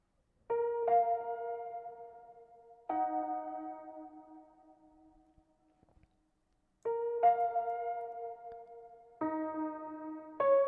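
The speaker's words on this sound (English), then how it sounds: "I added this ambient piano on the top." A soft ambient piano layer from a pop ballad arrangement sounds alone. Sparse two-note chords are struck about every two to three seconds, each ringing out and fading, with a short near-silent gap in the middle.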